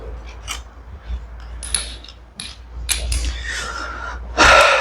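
Bolts are turned by hand with hand tools during an engine swap, giving scattered metallic clicks, ratcheting and clanks at close range, with occasional breathy sounds between them.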